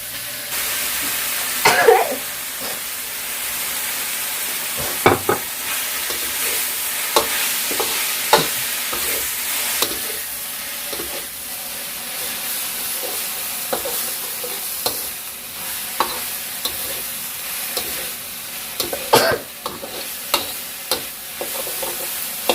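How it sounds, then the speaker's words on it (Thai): Cooked pork tossed with holy basil leaves in a hot pan gives a sustained sizzle and hiss, broken by sharp scrapes and clanks of stirring at irregular intervals, close up with no talk. "หมูสุกแล้วนะครับ ตามด้วยใบกะเพรา"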